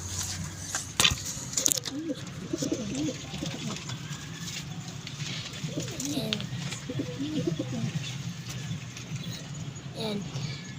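Racing pigeons cooing in repeated soft, throaty bursts close by, with low traffic or engine hum in the background and occasional handling noises.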